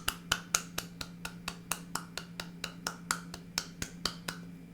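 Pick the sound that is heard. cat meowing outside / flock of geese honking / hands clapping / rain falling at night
hands clapping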